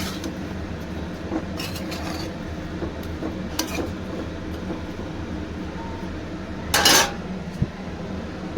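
A lid is set over a cooking pot of vegetarian banana-flower curry with potatoes, giving one short metallic clank near the end, with lighter utensil clinks earlier over a steady low hum.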